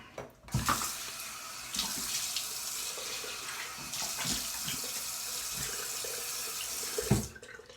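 Tap water runs steadily into a sink during rinsing after a straight razor shave, a continuous close splashing stream that starts and stops abruptly, with no talk.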